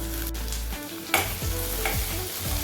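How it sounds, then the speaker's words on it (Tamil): Shallots and a few dried red chillies sautéing in a pan for Kerala-style coconut chammanthi, a steady close sizzle with stirring scrapes and a couple of sharper clatters, no voices. "லேசாக வதங்கினா போதும்."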